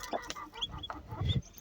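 A hen clucks in short, low bursts beside chicks hatching from their eggs, fairly quiet and close, with a busier cluster of clucks near the end.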